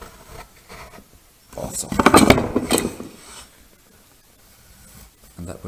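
A marking gauge is drawn across a wooden workpiece to scribe mortise lines, giving a short close scratchy rasp of about a second and a half, with faint talk and small handling noises around it.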